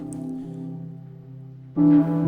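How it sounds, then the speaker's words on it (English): Sustained piano-like tones from a piano loop played on a Morphogene sampler module hold and shift softly, then a brighter, louder chord enters near the end; no voices. "what you're hearing here is the morphogene reel of a piano loop that I've made"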